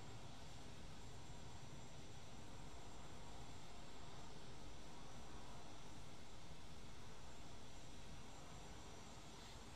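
Aircraft engine pushed to full throttle in the video game Arma 3, a steady loud broadband roar that holds constant throughout with no voices.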